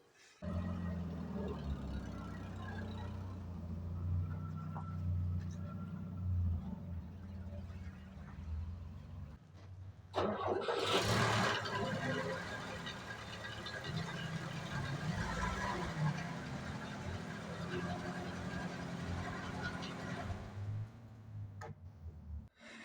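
A VAZ 2106 car engine cranks and catches partway through, then settles into a steady idle rumble with talk over it.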